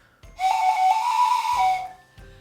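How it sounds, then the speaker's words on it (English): A homemade whistle carved from a carrot with a tone hole gives two sustained, fairly loud breathy tones, the first longer and wavering in pitch, then a short quieter one, with no talking. "you have your carrot whistle working, you're having a blast"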